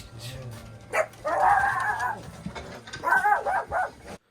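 Dogs bark and yip in short bursts, with whimpering sounds between, fairly close by amid background noise.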